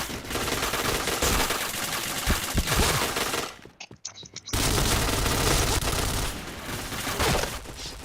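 Rapid automatic gunfire in the video game Point Blank, loud and sustained, with a brief gap before the shooting resumes.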